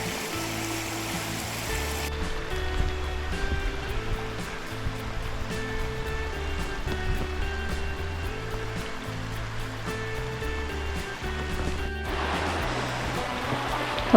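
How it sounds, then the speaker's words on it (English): A creek flowing beside a trail near Clearwater Lakes outside Terrace, BC, gives a steady, close rush of running water that holds level throughout, with a brighter, hissier splash surging in toward the end. "This creek is along the trail"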